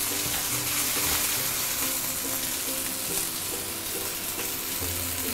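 Fish for a sourish fish soup fries in a pan with a steady, continuous sizzle of crackling oil, moderately loud and close, with no talk over it.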